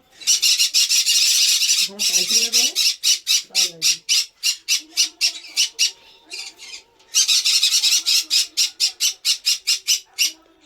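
Red factor canary chicks squawk in loud, rapid bursts of sharp, repeated begging cries, close by, pausing briefly and then resuming, with a low murmur of talk in the gaps.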